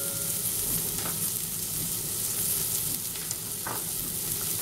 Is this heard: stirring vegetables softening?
yes